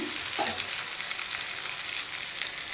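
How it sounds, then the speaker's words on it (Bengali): Pumpkin greens fry in a pan with a quiet, continuous sizzle and crackle, steady throughout, with a brief stir or scrape near the start and no voices. "কুমড়ো শাকটা দিয়ে আরেকটু ভাজা ভাজা করে নিচ্ছি"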